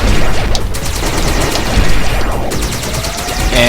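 Plasma gun in the game Next Penelope fires during a boss fight in a rapid, loud stream of shots, heavy bursts overlapping with electronic tones and no voices.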